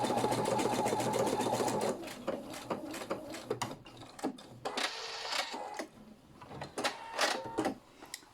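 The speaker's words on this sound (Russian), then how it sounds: "И этот срез я стачаю обметочной строчкой." A sewing machine stitches an overcast seam through old denim jeans, its rapid mechanical clatter running steadily at first, then breaking into short bursts and pauses, close up with no talking.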